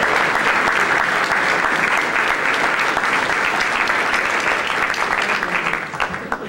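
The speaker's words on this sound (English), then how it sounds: "Let's give him a round of applause." Audience applause at a sports field program welcome, dense steady clapping from a crowd that stays loud throughout and thins out at the very end.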